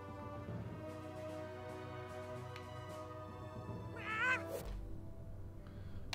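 A cat in the video game South Park: The Fractured But Whole gives one clear, rising meow midway through, heard over steady background music with no talking.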